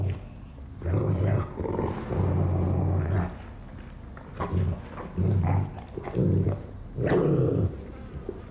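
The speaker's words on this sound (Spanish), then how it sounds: "Como un perro o un oso comiendo algo" In the video game Dead Space 3, a dog-like creature feeds with repeated guttural growls and wet, rumbling bursts in uneven clusters, loud and close, separated by short quieter gaps.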